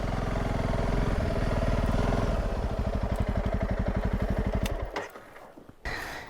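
A motorcycle engine chugs on the slopes of Cerro Negro volcano in Nicaragua, a loud, close, rhythmic idle that slows into distinct pulses before cutting out, followed by brief clatter.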